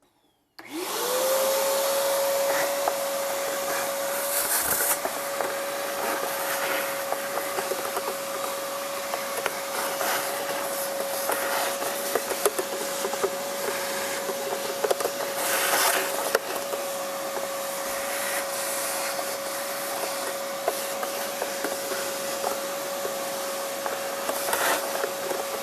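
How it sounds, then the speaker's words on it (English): A vacuum cleaner starts up and runs steadily with a constant whining hum while sucking debris out of the air filter housing of a Mercedes ML, close and loud with occasional rattles and scrapes as the nozzle moves. "let's go ahead and vacuum this up"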